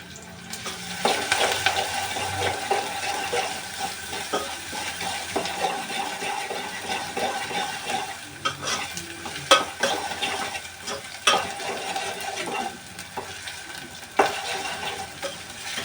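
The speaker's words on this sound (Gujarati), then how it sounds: "હવે આપણે નાખીશું અંદર આદુ લસણનો પેસ્ટ." Ginger garlic paste frying in oil for a hotel-style egg curry, a loud close sizzle with brisk, repeated stirring scrapes against the pan throughout, no voices.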